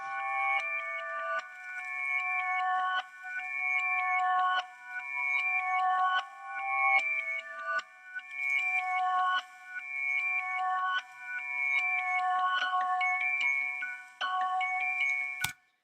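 A reversed melodic sample plays as the intro of a beat produced in Ableton Live 10, with repeating swelling tonal phrases that rise in and cut off abruptly. The pattern is steady, loud and close, with no voices.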